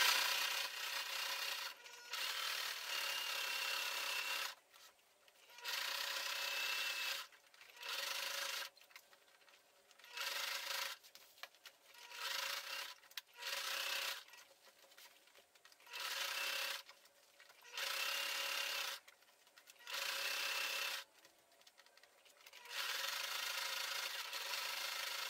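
A sewing machine stitches fabric for an insulated lunch bag in repeated runs of a few seconds each, separated by short pauses, close and steady, with no voices.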